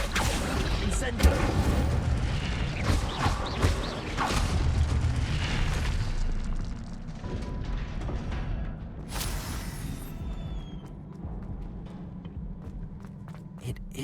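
Spell effects from the Hogwarts Legacy video game, including Incendio, sound as heavy booming blasts and rumbling bursts over several seconds, then give way to quieter crackles and a sharp whooshing flare.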